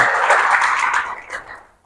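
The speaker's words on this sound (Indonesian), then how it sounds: "Tepuk tangan saudara" A church congregation at a Thursday service applauds, a loud, dense round of clapping that holds steady and then tapers off to silence.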